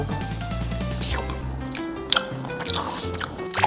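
Close-up chewing of chewy Hi-Yo jelly gummy candy, soft sticky mouth sounds with a few sharper wet clicks and smacks toward the end, over a faint hum of background noise.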